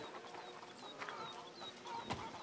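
Soft clucking and chirping from farm fowl in A Plague Tale: Requiem, a goose among chickens, faint and close with short repeated calls over quiet ambience.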